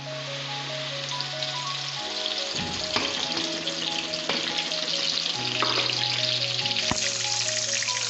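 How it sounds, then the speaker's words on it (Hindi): A ground paste of onion, tomato, ginger and garlic hits hot oil for chicken karahi, bursting into a loud crackling sizzle that keeps frying steadily beneath background music. "और इस गर्म ऑयल में हम ये पेस्ट डालेंगे।"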